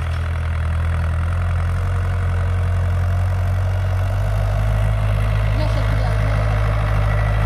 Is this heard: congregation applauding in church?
no